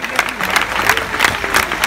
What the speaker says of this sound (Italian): Fate un applauso alle nostre donne, ai nostri uomini in divisa delle forze dell'ordine